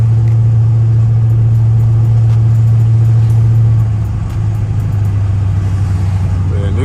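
Heard from inside a Dodge Charger SRT driving on a road after a blizzard, the engine hums in a loud, steady low drone with a brief dip near the middle.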